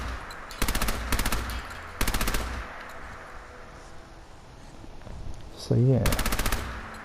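Scoped gun in a video game, set at an airport armory, fires in several loud rapid bursts with sharp repeating reports, separated by quieter gaps; someone speaks briefly between shots.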